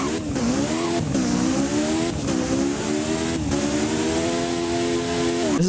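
A 1988 Lotus Spirit Turbo driving in the video game Driving Empire, its engine note climbing and dropping through repeated revs and gear changes, loud and close, with faint tire squeal and no talk.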